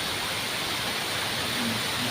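Strong wind and heavy rain lash a temple compound at Wat Mai Charoen Tham in Pak Thong Chai, Nakhon Ratchasima, making a dense, steady roar of broadband noise throughout, with no voices heard.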